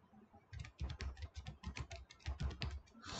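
Rapid, close keystrokes rattle on a computer keyboard, a dense burst of clicky taps continuing for about three seconds with no talking.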